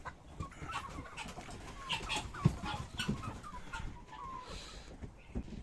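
Farm chickens clucking while feeding in the morning, several birds making soft, irregular clucks and pecking sounds close by over a low outdoor background.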